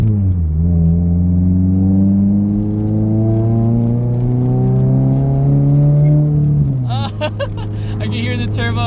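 A rebuilt turbocharged Subaru BRZ engine idles with a loud, steady low drone, then revs up smoothly with pitch climbing for several seconds before dropping back, ending in a sharper burst of noise.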